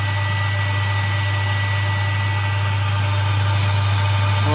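A lathe parallel turns a screwdriver handle, a steady close mechanical hum with a strong low tone and a faint light cutting hiss over it, unchanging throughout.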